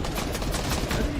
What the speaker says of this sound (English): shoot that shotgun through me.